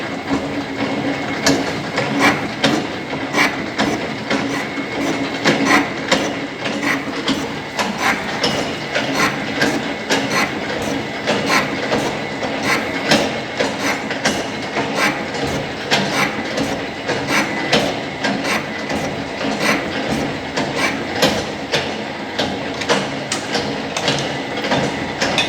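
Shaping machine running with its cutting tool taking a cut on a workpiece, a dense, steady mechanical clatter with rapid repeating ticks throughout, loud and close, with no talk.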